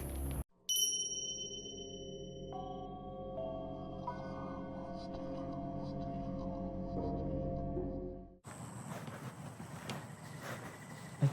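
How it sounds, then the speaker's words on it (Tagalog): A bell rings out in a haunted park in Gunma, Japan: a sharp metallic ding followed by a sustained, ringing tone that holds steady for several seconds before cutting off, with outdoor noise afterward. "May tumunog ng bell."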